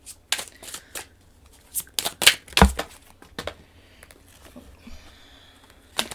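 Playing cards being shuffled in quick riffling bursts, with a few pauses between shuffles and soft handling noises. Close and fairly crisp, with no talking.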